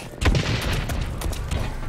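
Gunfire in the shooter game Blacklight, rounds sounding across a chain link fence, comes as a dense burst of shots and booms with a loud hit near the start, followed by steady rattling fire.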